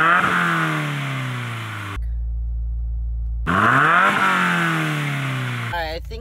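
A Subaru WRX engine revving up and falling back twice, separated by a steady idle, close and loud, with a short clatter at the end.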